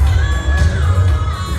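A Chinese crowd cheering and whooping at a CWE pro wrestling event, a loud dense roar of voices with shouts and whistles rising above it.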